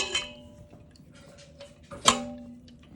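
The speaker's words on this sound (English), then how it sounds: "you just wanna take your whisk again and combine" A whisk works through a yogurt mixture in a bowl, making sparse metallic clinks and taps against the bowl, with a sharp clink at the start and a louder strike about two seconds in.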